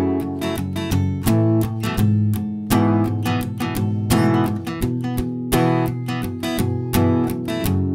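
Strummed guitar playing the intro of a country song, with steady rhythmic chord strums repeating in a driving pattern, close and loud, with no voice over it.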